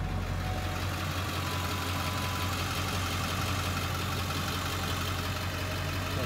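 A 2001 Ford F350 Super Duty dually with a 7.3 Power Stroke diesel idles steadily and close by, a continuous low rumble with a faint knocking clatter that holds even throughout, with no voices.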